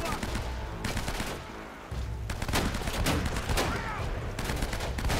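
Shotgun blasts in the video game Uncharted: Drake's Fortune, several heavy reports mixed with other game gunfire and battle noise, loud and dense throughout.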